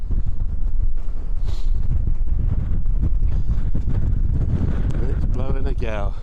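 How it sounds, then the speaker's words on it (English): Strong gale-force wind batters a hilltop at Uphill near Weston-super-Mare, roaring and buffeting the microphone continuously with gusty rumble throughout. "And it's blowing a gale."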